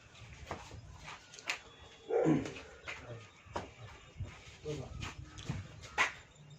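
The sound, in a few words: dog barking in background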